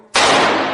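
A single close, loud gunshot fired during firearms training, a sharp blast that cuts in abruptly and rings out briefly.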